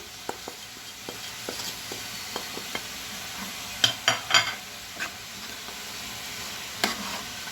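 A spoon stirs seasoned duck stuffing sautéing in a pan with salt, curry and turmeric, giving soft steady sizzling punctuated by sharp scraping clicks, a brief cluster of louder stirs midway, and no talking.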